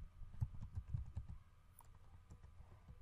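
Quiet typing on a computer keyboard, a quick run of soft clicking keystrokes followed by a few scattered taps, close by with no voices.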